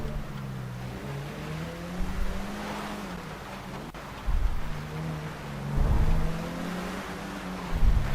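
A BMW 750Li car engine in Grand Theft Auto V drones steadily at low pitch and rises into several revving surges, with no talk over it.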